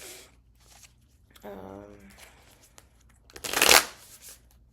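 Tarot cards shuffled up close: a quick riffling flutter, then a louder burst of cards slapping and sliding together, with a voice murmuring briefly in between.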